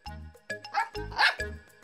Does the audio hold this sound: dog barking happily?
yes